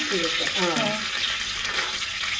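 Spices such as cumin, mustard seeds and turmeric frying in coconut oil for a raw jackfruit dish: a steady, close sizzling hiss, with a voice speaking briefly over it at the start.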